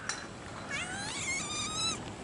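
A cat gives a few drawn-out, rising and wavering meows, close and fairly clear over steady background noise, with no talk.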